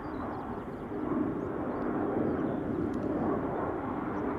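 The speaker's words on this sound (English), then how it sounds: "Turkish A330 taking off to Istanbul" A Turkish Airlines Airbus A330 takes off from Schiphol Airport bound for Istanbul, its engines a steady, distant broadband roar that holds evenly throughout without talk.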